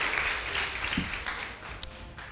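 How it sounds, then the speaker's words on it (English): Audience clapping for two school debate teams at a junior regional contest, a brief, fairly quiet patter of applause with a few sharper claps and no talk over it. "let's appreciate the two teams with the clap once again"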